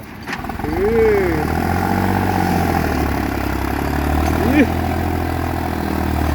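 A turbocharged John Deere 5050 tractor engine idles and rumbles steadily nearby, with voices talking over it.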